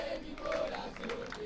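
Football supporters at a Primera C match between Luján and Real Pilar chant together in a distant, muffled roar, the crowd voices blending into one sustained, quiet swell.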